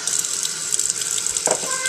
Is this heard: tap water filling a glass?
yes